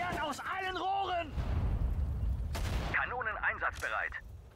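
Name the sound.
artillery and gunfire in video game Sudden Strike 4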